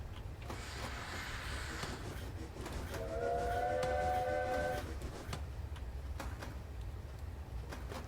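Steam train passing close alongside a rock cutting on a graded mountain line near Beddgelert, a steady rumble with a brief two-tone whistle in the middle.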